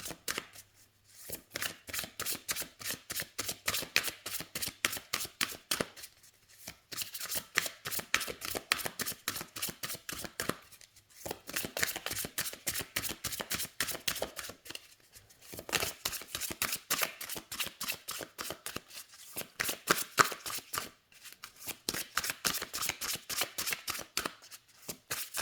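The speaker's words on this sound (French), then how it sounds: "Donc les cartes se mélangent très très bien." A deck of oracle cards is shuffled over and over, each riffle a quick crisp burst of flicking card edges, close and fairly quiet, repeating in bursts separated by short pauses.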